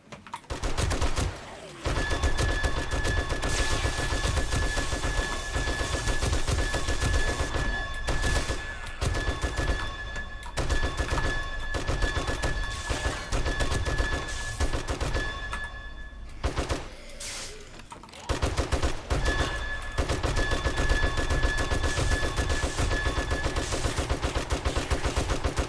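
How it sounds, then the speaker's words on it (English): Rapid, sustained automatic gunfire in the zombie survival game 7 Days to Die, loud and continuous for long stretches with brief pauses, aimed at a zombie. "Then at least just keep shooting him until he disappears."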